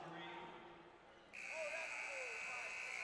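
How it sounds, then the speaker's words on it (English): A buzzer sounds at halftime of a boys varsity high school basketball game in a gym, a sustained electronic tone starting midway and holding to the end over crowd noise and voices. "And number 35 is knocked down as the buzzer goes off."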